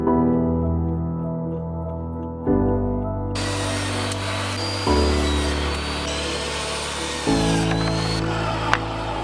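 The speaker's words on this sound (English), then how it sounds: "got the miter saw and some paint. So just gonna make a couple quick cuts" A miter saw cuts 2x2 and 2x4 lumber, with several sharp steps as the blade bites in and a steady high whine through each cut, loud and close, with no talk.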